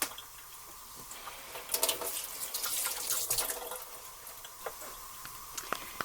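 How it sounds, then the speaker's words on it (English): Tap water runs faintly into a kitchen sink while raw pork chops are rinsed, with soft splashing and occasional light knocks and clinks throughout. "when I'm done rinsing them all and getting them all in the water"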